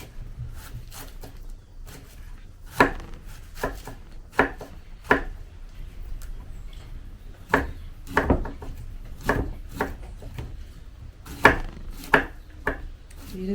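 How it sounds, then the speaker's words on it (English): Red cabbage is shredded thin with a knife on a board, a series of crisp, irregular chopping strokes, close and clear with short pauses between bursts. "We're just gonna shred the cabbage real thin."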